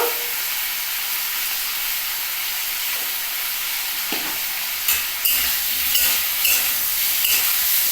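Cabbage and potato curry with tomato, salt and turmeric sizzles and fries in a pan, a steady close hiss throughout with occasional stirring scrapes toward the end.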